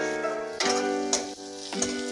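Dried fish fried for a chutney, with a sizzle over a tonal hum and a few sharp clatters, as if the pan is being stirred.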